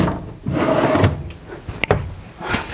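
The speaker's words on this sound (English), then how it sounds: "Huge drawers." Large drawers in a 2020 Newmar Kountry Star Class A diesel motorhome slide open and shut with rolling rumbles and a couple of sharp knocks as they close, heard up close.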